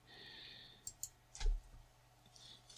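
A computer mouse gives a couple of sharp single clicks, then a slightly louder click with a soft thump, close and dry against faint background hiss.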